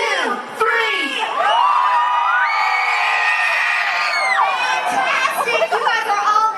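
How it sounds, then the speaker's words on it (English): A theme park audience of children screams together on cue, a loud, sustained wall of shrieks and cheers lasting several seconds, rising and then tapering into scattered whoops. "I want to hear a big green team scream on 3."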